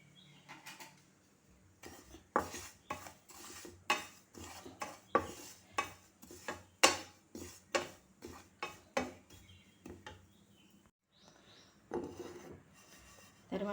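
Split mustard seeds being dry roasted in a pan make a series of rhythmic scraping strokes, roughly one or two per second, dry and gritty, with quieter pauses before and after, and no talking.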